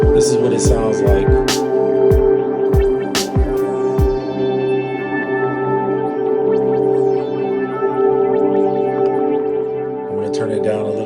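Granular synth output from the GS DSP Quantum Granulator app: a sustained, shimmering drone with echoing tonal layers and a few sharp percussive blips near the start, steady and fairly loud.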